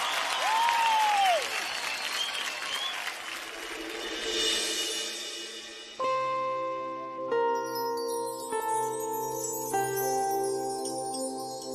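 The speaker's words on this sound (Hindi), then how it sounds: "जोरदार तालियां हो जाए" A studio audience on the Indian Idol singing show applauds for the next performer, with a rising cheer over the clapping for about six seconds before it fades and music starts.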